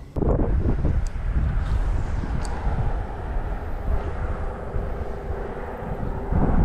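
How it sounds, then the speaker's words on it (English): Gusty wind buffeting the microphone outdoors by a small creek, a low continuous roar that swells and eases, with no speech. "It's a little windy here."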